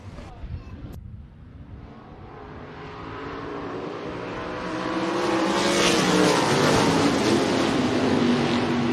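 Race cars taking the green flag for a heat race at Rapid Speedway dirt track, engines building from a distant rumble into a loud, sustained roar as the field accelerates, with faint voices over it.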